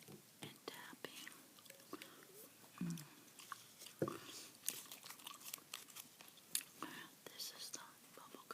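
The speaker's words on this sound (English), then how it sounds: "This is the bubblegum I'm chewing tonight, by the way. Super bubblegum." Super bubblegum chewed close to the microphone in an ASMR setting, soft wet clicks and smacks scattered irregularly under quiet whispering.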